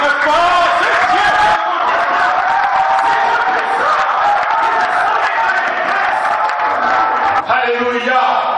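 A church congregation cheers and applauds in worship, a loud, sustained roar of voices and clapping that swells without pause, with a shift in tone near the end.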